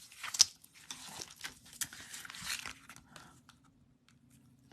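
Adhesive tape is cut and pulled away from a scrap-quilt paper card, giving soft, close crinkling and tearing bursts in an uneven rhythm at low volume, with no talk.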